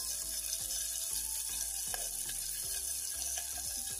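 Panch phoron five-spice seeds hit hot oil with green chilies and onion for a breakfast dish, giving a steady dense sizzle and crackle throughout, close and continuous with no talking.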